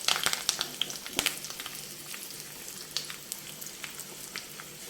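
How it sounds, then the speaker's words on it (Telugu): Curry leaves hit a spoonful of hot ghee for a tempering in a restaurant-style chicken gravy, giving a soft, steady crackling sizzle with scattered sharp pops, fairly quiet and alone. "ఒకే ఒక్క స్పూన్ నెయ్యి వేసుకొని కొంచెం కరివేపాకు వేసి"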